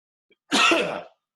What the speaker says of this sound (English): I don't think I've ever sneezed this much in a video